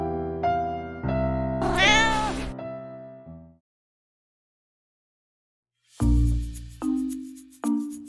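A cat meows in an animated Vietnamese folk-tale cartoon, giving a drawn-out, wavering cry over music before a pause of silence, then further short, bright meowing calls.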